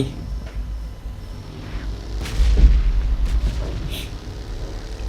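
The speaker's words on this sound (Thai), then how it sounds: "ยังไงระเบิดก็ไม่ลงหัวผมแน่นอน" Distant booming bombardment explosions in PUBG Mobile rumble repeatedly over a steady low background drone, a series of muffled blasts rolling in and out.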